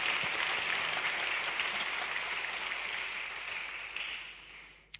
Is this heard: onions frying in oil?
no